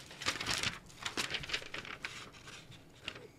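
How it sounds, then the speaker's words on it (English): Close crinkling and rustling bursts from a package sent from Japan as it is cut open with scissors and unwrapped, with an irregular, papery rhythm and no talking. "Maki in Japan always sends me these lovely packages that I have to cut open with scissors"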